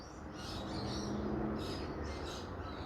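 Small birds chirp in a backyard garden, soft repeated high tweets rising over a steady low hum, faint and fairly distant.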